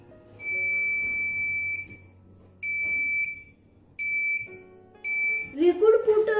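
Shrill beeps from an electronic buzzer alarm on a distance-sensing device sound in three long bursts with pauses, then a fourth cut short as a voice starts talking over it.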